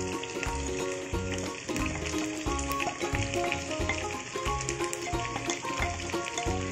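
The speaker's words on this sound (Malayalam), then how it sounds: "ഇനി നമുക്ക് നമ്മളെ സവാള ചേർത്ത് കൊടുക്കാം." Onions going into chicken frying in a pan for a masala chicken fry: a steady, close sizzle with rhythmic stirring scrapes throughout and no talk.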